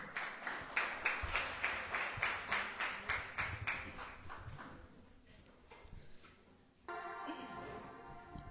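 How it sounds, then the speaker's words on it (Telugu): A church congregation applauding together in rhythmic, evenly spaced claps that gradually fade over several seconds, followed by a sudden shift to a different sound near the end. "చప్పట్లు కొడదాం"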